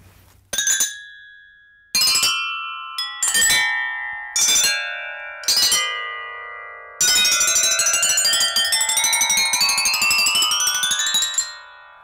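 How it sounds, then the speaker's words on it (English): A resonant metal percussion instrument, bell-like and close to a vibraphone or tubular bells, is struck with very hard plastic sticks: five separate sharp, ringing strikes, then a dense run of quick strikes sustaining a shimmering wash, loud and near. "if I use very hard plastic sticks, we get this very, very sharp percussive sound indeed"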